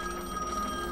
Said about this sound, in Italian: Suonano al telefono.